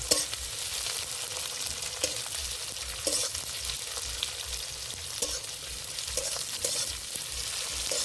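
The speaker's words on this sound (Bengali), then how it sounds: "পেঁয়াজ কুচি পেঁয়াজটা ভালো করে ভেজে নেব" Chopped onions fry in a pan with a constant loud sizzle and crackle, while a spatula scrapes and taps against the pan at irregular intervals, heard close with no speech.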